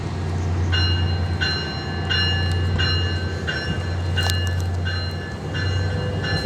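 A passenger train pulls out of Point Pleasant Beach station, with a deep steady engine drone and regularly spaced high metallic squeals from the wheels, loud and near, without speech.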